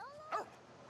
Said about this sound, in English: Hush, dogs. What are you barking about?